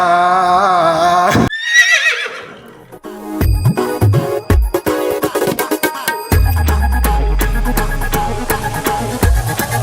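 A loud horse whinny opens, followed by a burst of quick bell-like chimes and clattering effects, all close and punchy like a produced sound effect.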